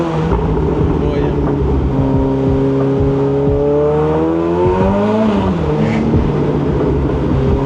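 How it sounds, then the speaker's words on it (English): A car engine with a newly fitted exhaust revs up and down in rising and falling sweeps, loud and close, while people talk over it. "Alright, we've got the exhaust working. Now, this car sounds a lot better than the other one."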